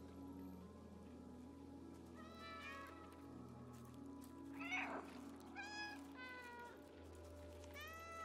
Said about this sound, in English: I can meow in the load or the cutscenes.